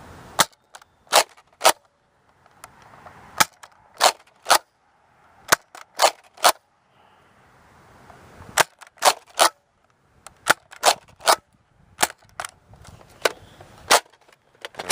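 A Nerf Modulus Mediator blaster firing darts level on flat shots outdoors, sharp loud snapping pops in quick pairs and short bursts with brief pauses between volleys.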